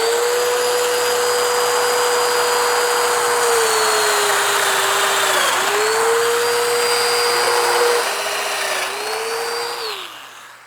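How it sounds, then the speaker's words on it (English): A domino joiner cuts mortise holes in cabinet wood during a closet renovation. Its motor holds a loud, steady whine with brief pitch dips as it plunges, then winds down near the end. "use the domino joiner to cut, again, 3 holes"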